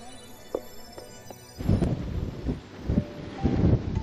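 Wind gusts across the microphone on a coastal lookout at Cox Cove, Newfoundland, starting quiet and then swelling into a loud, steady rumble with buffeting surges.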